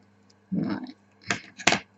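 Scissors snipping at a crafting table while making a Christmas journal with sticky decorative material: one longer crunchy cut followed by two short sharp snips, close and fairly quiet, no talk.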